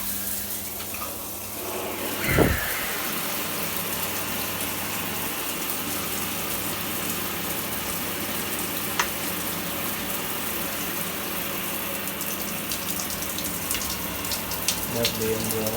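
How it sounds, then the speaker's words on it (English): A newly installed electric shower runs again after being switched back on, a steady gushing hiss of falling water that persists throughout, with a brief knock and a few faint clicks near the start. "I've just put the shower back on"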